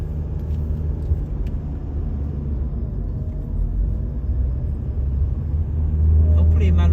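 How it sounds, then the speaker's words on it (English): A small car climbs a steep, winding hill road toward a remote campground, its engine a steady low rumble and drone that swells slightly near the end, with a voice speaking over it at times. "I just tapped the gas and I'm going up the hill."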